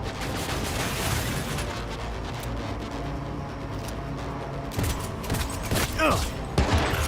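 Weapons firing in Cyberpunk 2077, choppy bursts of gunfire and pops over a steady game background, with a few louder shots near the end, moderately loud and close.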